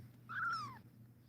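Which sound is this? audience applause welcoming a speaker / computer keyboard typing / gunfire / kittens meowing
kittens meowing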